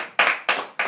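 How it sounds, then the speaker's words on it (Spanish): Three sharp, close hand claps in an even rhythm, each ringing briefly before the next, from a beer-tasting host's small group. "Un aplauso"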